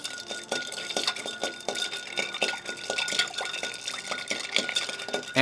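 A Little Sicily cocktail made with Balsam American Amaro is stirred with a straw over ice, producing a steady run of close, rhythmic clinks and light liquid swishes with no talking.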